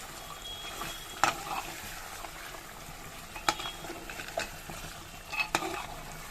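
Mutton masala frying in a pan, a soft steady sizzle broken by a few sharp scrapes and clinks of a spoon stirring against the metal at irregular intervals.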